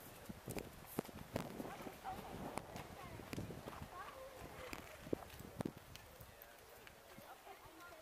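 Horse hooves clip-clop at a steady walking pace in a horse show arena, several horses moving at once, with voices talking in the background.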